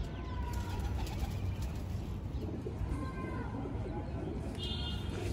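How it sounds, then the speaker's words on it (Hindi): Hyderabadi pigeons in a flock outdoors give a steady low cooing and rustle that runs unbroken and fairly loud, with faint higher bird calls mixed in. "एक टुकड़ा भाग गया कबूतरों का"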